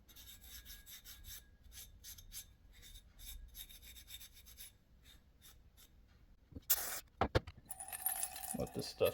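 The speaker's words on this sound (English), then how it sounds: "I'm just Scotch-Brite this bowl down a little bit." A Scotch-Brite pad scrubs a crusty carburetor bowl from a KTM 65 SX, quick bursts of rasping friction repeated in short strokes, close and fairly quiet, ending in louder scraping and clatter.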